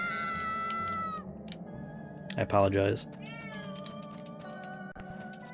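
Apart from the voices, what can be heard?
cat meowing and yelling to get into the room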